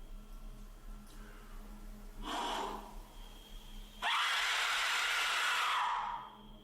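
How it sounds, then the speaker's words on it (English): A shrill, breathy scream-like whistle from an Aztec death whistle bursts out twice, the second blast longer and harsher, over a low steady hum. "Sounds like the death whistle."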